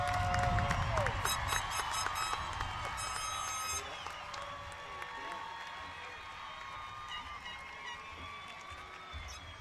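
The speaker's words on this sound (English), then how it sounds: "Let's give them all a well-deserved round of applause" Audience applauding at a middle school promotion ceremony, sustained crowd clapping mixed with whoops and cheers, a few voices audible in the hall.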